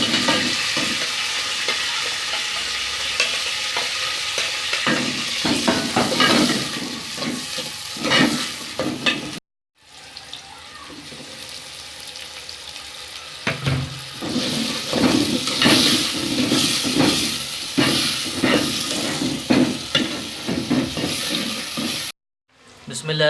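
Tomatoes, onions and green chillies frying in hot oil, a steady close sizzle with stirring clatter throughout, broken by two brief silent gaps.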